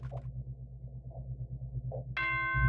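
A chime sounds from the Danganronpa video game as its nighttime announcement, a bright sustained tone entering near the end after quiet low hum, loud and alone.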